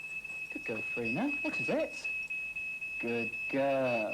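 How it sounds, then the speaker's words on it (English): A steady high-pitched electronic alarm tone sounds continuously while a person speaks encouragingly nearby. "that's the smoke alarm going off"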